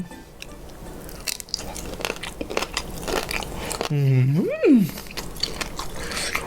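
Someone bites and crunches into a sour green mango salad with raw shrimp and chilies, making close, crisp chewing sounds mixed with vocal noises and a brief rising voiced sound.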